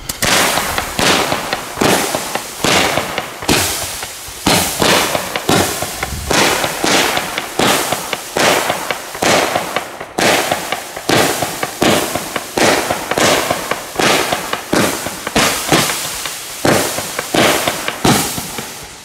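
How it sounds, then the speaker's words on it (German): A fire-pot fish effect firework is set off at a New Year celebration. Dense, loud crackling and popping bursts repeat in steady rapid pulses for the whole stretch, with no talking. "Ich finde ja so diese Feuertopf-Fisch-Effekt sehr schön."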